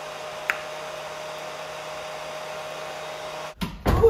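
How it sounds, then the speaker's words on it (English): A salon hood hair dryer runs with a steady, even whooshing hum that holds unchanged for several seconds, followed by a brief rustle and clatter at the end. "How long have you been under the damn dryer?"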